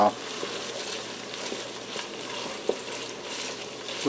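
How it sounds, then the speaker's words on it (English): A BBQ casserole is stirred in a Ninja Foodi pot, a steady low sizzle and bubbling simmer with a few soft scrapes of the spoon against the pot, close and moderately quiet. "I'm going to give that a little stir."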